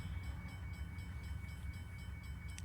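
Diesel locomotive train, a BNSF ES44 in the Railworks simulator, passing with a steady low rumble and engine drone throughout, faint rhythmic clicks above it, no talk.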